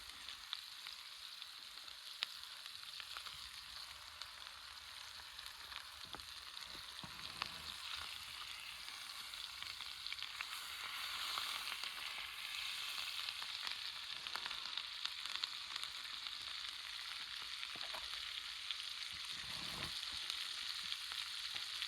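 Food sizzles steadily over an open campfire in the Appalachian woods while it is basted with a spoon, a soft, even frying crackle that stays faint and continuous with no talking.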